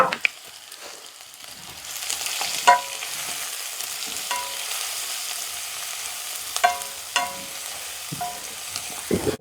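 Crushed shallots, green chilies and curry leaves frying in a pan, a continuous close sizzle broken by intermittent stirring scrapes and clinks, with no voices.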